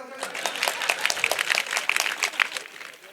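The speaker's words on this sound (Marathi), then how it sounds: "आजीसाठी एकदा जोरदार टाळ्या वाजवा." Scattered audience clapping at a live public speech, individual claps distinct and uneven, moderately near, with voices mixed in.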